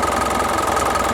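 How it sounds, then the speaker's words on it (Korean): A 2010 Hyundai e-Mighty truck engine idles steadily, a close, even diesel-like rumble with a fine repetitive knock running through the whole short stretch, no voices. "이 마이티 엔진 소리 굉장히 좋은 겁니다."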